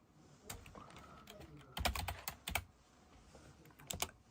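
Clicky typing on a desktop PC computer keyboard, close up, with irregular bursts of keystrokes and a few louder clustered presses amid quiet room tone.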